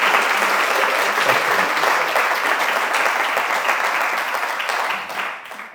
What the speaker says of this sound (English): we deserve a big round of applause